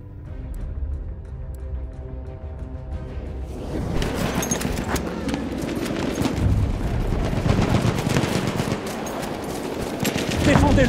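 Battlefield 1 multiplayer on the Rupture map, Gewehr 98 infantry: hostile machine gun fire rattles in sustained rapid bursts amid distant booms and battlefield clamor, with faint announcer-style voices in the mix.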